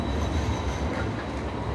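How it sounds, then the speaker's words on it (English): A Sydney Light Rail tram rolls past in the city, a steady, loud rumble of wheels on track with a faint high whine and no pause across the span. "is one of the Sydney Light Rail. What's called trams everywhere else"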